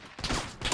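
Burst of M249 machine gun fire in an online shooter game, a short loud rattle of rapid shots lasting under a second with no talk over it.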